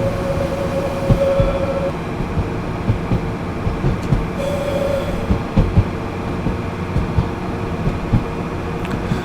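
A two-car red BR642 diesel multiple unit runs in Train Sim World 5, with a steady low engine drone, rhythmic wheel clatter over rail joints and brief tonal squeals riding on top.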